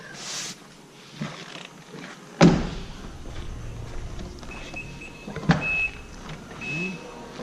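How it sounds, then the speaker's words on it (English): Power liftgate on a 2013 Nissan Pathfinder SL rising with a faint electric motor whine, a soft thump as it starts and another partway through, fairly close and quiet with no talking. "Power liftgate, nice and smooth coming up."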